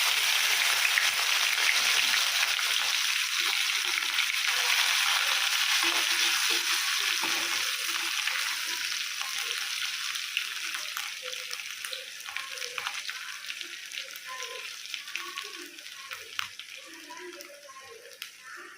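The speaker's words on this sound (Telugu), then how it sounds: "ఈ నెత్తళ్ళు ఎర్రగా వేపుకొని ఆ గుడ్లలో తీసేసుకోవాలి." Dried fish frying in hot oil makes a steady broad sizzle with crackly pops that slowly thins out toward the end, with no talk over it.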